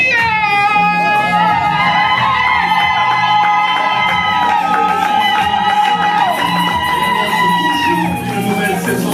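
Wedding congregation cheering and shouting for joy, a dense sustained wall of voices with high whoops and ululating calls, loud and continuous throughout.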